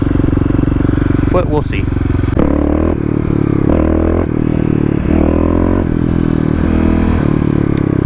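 A fuel-injected Kawasaki KLX351 runs as it is ridden slowly, its engine droning and rising and falling in pitch close by, with someone talking over it.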